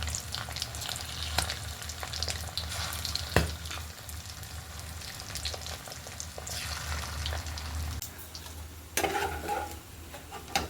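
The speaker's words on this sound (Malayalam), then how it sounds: "മസാല എല്ലാം പുരട്ടി പൊരിക്കാനായിട്ട് ഇനി പൊരിച്ചിട്ട് കാണിക്കാം." Masala-coated clams fry in hot oil with a steady, dense sizzle, broken by occasional sharp ticks and pops and a louder crackle near the end; no one speaks.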